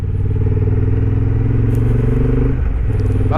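A Honda CB750 motorcycle is ridden at high altitude in Himachal Pradesh, its engine a loud, steady close-up drone with wind rush and a brief shift in tone near the end.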